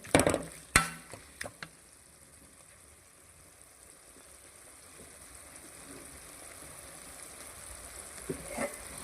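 Fried rice frying on a high flame in a pan as the oil separates; a burst of clattering knocks opens, then a low, faint sizzle builds steadily.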